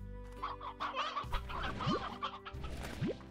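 Clucking chickens in the video game Slime Rancher, a cluster of short, bright clucks and chatter over a low humming game soundtrack, with two quick rising tones near the end.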